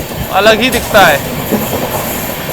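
LTT Mumbai–Bhopal express train rolling along the rails near Kasara and Igatpuri, a steady low rumble of wheels and carriages running throughout, with someone speaking briefly over it near the start.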